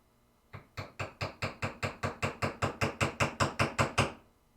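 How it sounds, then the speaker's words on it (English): A hammer drives pieces into a pinball playfield with about sixteen sharp, evenly spaced blows, close and loud, in a quick steady rhythm with no talk over it. "Get my hammer."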